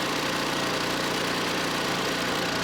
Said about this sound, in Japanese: 40年近く前の発電機で